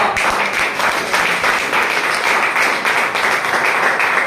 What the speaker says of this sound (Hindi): जगदीश के अभिनय के बाद थोड़ी ताली बजाओ